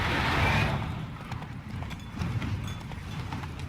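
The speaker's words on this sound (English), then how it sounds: "Vai, cavalo, não para não." A horse gallops in The Witcher 3 game with rapid, rhythmic clip-clop hoofbeats over a rushing wind-like background, fairly close and continuous.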